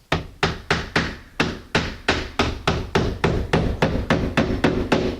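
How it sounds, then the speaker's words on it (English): Hammer drives nails into the top of a wooden split-jamb door frame in a steady run of about fifteen loud, close, evenly spaced blows, each ringing briefly before the next. "I'm going to take and put a couple nails in the top there"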